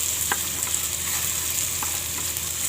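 Green chillies fry in a hot pan at home while spinach paneer is being made, a steady close sizzle with faint crackles and a few light spatula scrapes.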